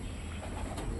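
Racing pigeons cooing outdoors where a flock circles overhead, soft repeated coos under a steady wash of wind and ambient noise, with no talking.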